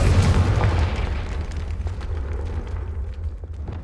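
A Confringo fire spell explodes in the video game Hogwarts Legacy, a loud booming blast with a deep rumbling tail that fades over a few seconds, heard alone without talk.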